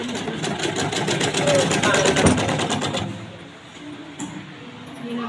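A sewing machine stitches a baby bib, its needle rattling in a fast, steady rhythm for about three seconds before stopping, with a voice talking nearby.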